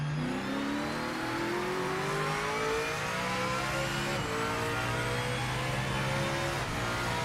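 In Project Motor Racing 2.0, a simulated race car accelerates steadily, engine tone and a whistling turbo-style whine climbing together, then a quick shift drop and renewed climb; loud, continuous, no voices.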